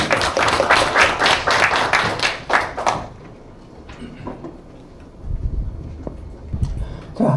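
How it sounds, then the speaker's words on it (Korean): An audience at a photography lecture on star trails and Milky Way shooting in Ulsan claps to welcome the lecturer: dense, steady applause for about three seconds, then it dies away into quiet room noise with faint voices. "큰 박수로 맞이해 주시기 바랍니다"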